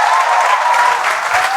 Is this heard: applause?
yes